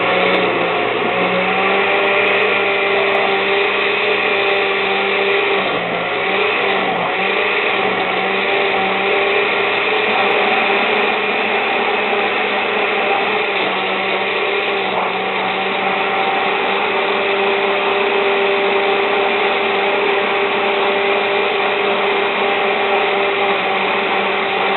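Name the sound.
blender blending fruit smoothie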